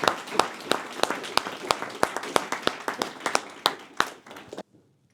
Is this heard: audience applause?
yes